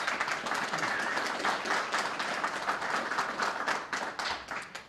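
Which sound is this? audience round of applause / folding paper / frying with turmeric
audience round of applause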